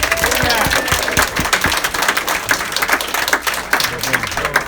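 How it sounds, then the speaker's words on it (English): An audience claps for someone introduced at a political office opening in Glen Cove, with a brief, uneven burst of applause over some background talk. "Let's give a big round of applause to Mike Zangari."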